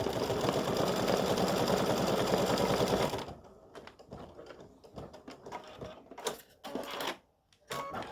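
A sewing machine runs fast and loud while top stitching flip flop straps, then stops abruptly and gives way to scattered clicks and handling taps.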